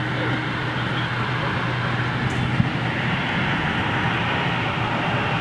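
The Rolls-Royce RB211 engines of a BOAC Boeing 747 give off a broad, steady jet roar that holds loud and unbroken throughout, with a faint voice beneath it.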